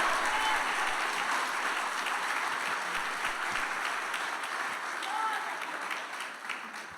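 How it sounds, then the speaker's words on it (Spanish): Congregation at a church service clapping in praise, a dense sustained wash of many hands that carries through, with voices and shouts mixed in beneath it, tapering slightly toward the end. "Dale un aplauso de alabanza al Señor, hermano."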